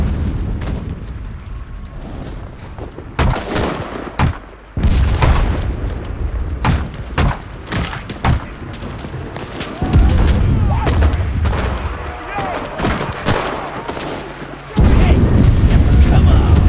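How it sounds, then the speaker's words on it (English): Artillery shells and explosions boom in the World War II shooter Enlisted at a Normandy airfield, with heavy blasts landing in irregular bursts over a rumbling battlefield din, some loud and close, others duller and farther away. "We need artillery support!"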